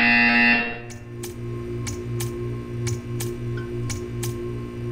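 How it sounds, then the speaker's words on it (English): A steady low electronic buzz from a Portal 2 test chamber buzzer drones throughout, punctuated by about eight evenly spaced short clicks, after a brief louder tonal burst at the start. "You will hear a buzzer."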